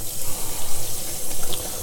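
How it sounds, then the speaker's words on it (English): A kitchen water tap runs steadily as hands are rinsed under it, a loud close splashing rush with no talk. "I just have to rinse my hand because I'm covered in it"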